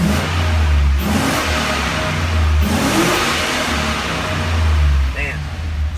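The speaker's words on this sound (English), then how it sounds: "We're going to give it a couple revs, see how everything sounds." A 2001 Chevy Silverado's 6.0L LQ4 V8 engine with 184K miles idles low and steady, then revs up twice in quick surges, with a faint voice underneath.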